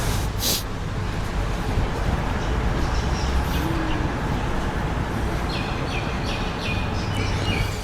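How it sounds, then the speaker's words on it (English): Birds calling outdoors in Cairns, Australia, with scattered chirps and a brief gobbling-like call over a steady, noisy ambient bed. "The birds here are very vocal. They're very talkative birds."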